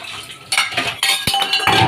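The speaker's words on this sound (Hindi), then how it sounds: "कर दिए भाई मैंने बर्तन साफ," Steel dishes and cutlery clink and clatter as they are washed and handled, a close, bright run of repeated metallic knocks and scrapes.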